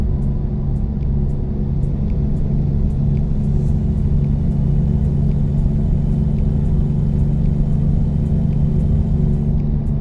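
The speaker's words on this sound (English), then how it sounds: "I'm driving a big truck, a Volvo DNL 2014 with an Escort today." Steady low engine rumble of a 2014 Volvo VNL truck in American Truck Simulator, a continuous droning hum held at constant loudness throughout with no voices.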